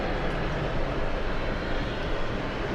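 A Turkish Airlines jet departs from Los Angeles airport, its engines making a steady, broad roar that holds at an even level throughout, with no voices.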